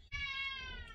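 A house cat gives one drawn-out, clear meow close by, lasting almost a second and sounding loud against a quiet kitchen.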